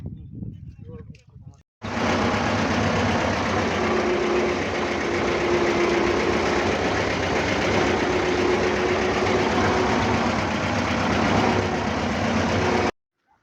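A vehicle engine starts after a short burst of speech, then runs steadily in a loud, close, low-pitched idle or drive for the remaining eleven seconds before cutting off abruptly.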